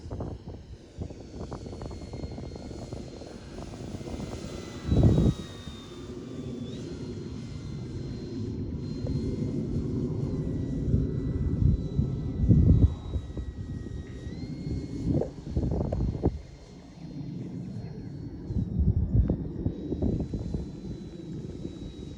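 An E-Flite Turbo Timber Evolution 1.5m radio-controlled model airplane's engine whines steadily overhead, its high pitch rising and falling as it passes, with occasional wind buffeting on the microphone.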